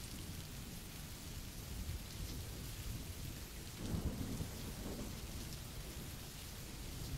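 Steady, dense rainfall hisses without a break while a deep roll of thunder swells in the middle of a thunderstorm, loud and enveloping.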